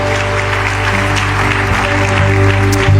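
A church congregation at a Spanish-language service applauds in a loud, dense, continuous wash of clapping, with sustained musical tones beneath it.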